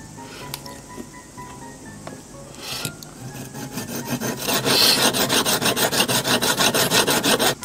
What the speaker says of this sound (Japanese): 次にこのヤスリでここの斜めに削っていきます